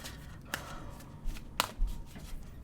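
Tarot oracle cards shuffled by hand in a quiet room, a few soft riffling bursts and light taps spread over a couple of seconds, faint and close.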